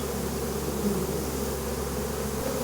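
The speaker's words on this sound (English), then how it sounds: "I'm going to shake all of these bees into this box" A dense swarm of honey bees buzzes steadily and loudly up close as they are shaken into a box, a continuous droning hum with no pauses.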